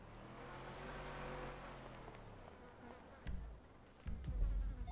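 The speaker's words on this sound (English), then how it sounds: "I hear a car going northbound Milton Road." A car passes in a role-play police video game, a low engine drone that swells and fades over the first few seconds, followed by louder thumps and rumbling nearby.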